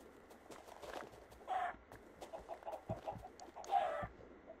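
Chickens in the Minecraft video game cluck in short repeated bursts, with a few clear squawks standing out over a soft busy background of game noise and light steps.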